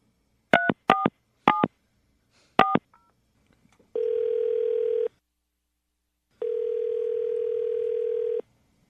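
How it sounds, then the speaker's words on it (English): Four quick touch-tone beeps from a phone keypad, then a pause and two long, steady ringback tones with silence between them. "All right, Jennifer, we're going to call him see if he answers his phone right now"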